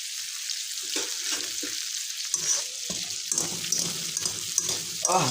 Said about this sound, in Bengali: এটা চিংড়ি মাছটা ফ্রাইটা হয়ে গেছে, হাফ ফ্রাই, তুমি দেখতে পাচ্ছ